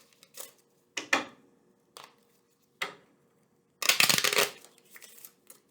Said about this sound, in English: I'm just going to go ahead and shuffle duffle.